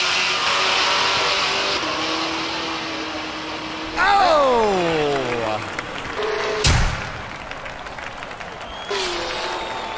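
Drag race cars at Houston Raceway Park, old school versus modern muscle, launching with front wheels lifted; engines roar and sweep in pitch as they accelerate past, under an announcer's commentary and distant crowd noise.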